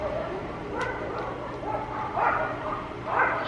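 Several short yips and barks from dogs at a moderate distance, rising in bursts over steady background noise.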